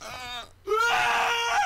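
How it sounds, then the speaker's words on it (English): Character in the Happy Wheels video game letting out a loud, close scream: a short strained cry, a brief break, then a longer, sustained shriek rising in intensity. "Oh God, the scream though."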